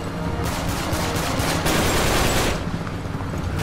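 Rapid gunfire in Uncharted 3, dense automatic bursts and overlapping shots, loud and close, continuous for several seconds with no talking over it.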